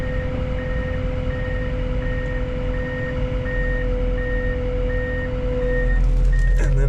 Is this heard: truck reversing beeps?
yes